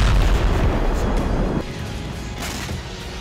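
Aerial bombardment in the Israel–Hamas war: a loud, deep explosive boom with rumbling low-end energy, followed by a sustained roar that drops slightly in level and lingers as a dull wash.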